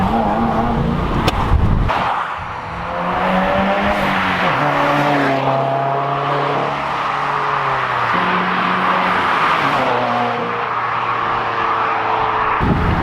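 A 2018 Subaru VA WRX fitted with a Nameless axle-back exhaust and no tune accelerates hard, its engine note climbing loud and close through rising gears with brief drops between shifts.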